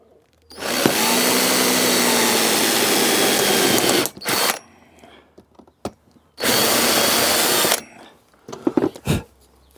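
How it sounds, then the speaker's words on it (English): A small power drill whines loudly in two sustained bursts, each a few seconds long, drilling through a glow plug part on a David Brown 990 tractor, separated by quieter handling clicks and clatter. "So we're just going to drill a hole through there."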